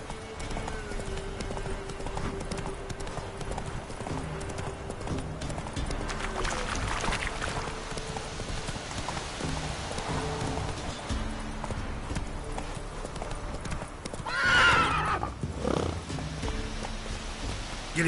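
The horse Roach in The Witcher 3 trots with steady hoof clip-clops on a hard path, and a brief whinny rises near the end, all fairly faint.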